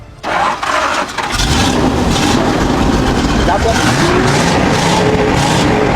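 A ZIL 130 dump truck engine starts and settles into a loud, steady running rumble close by, with voices talking briefly over it.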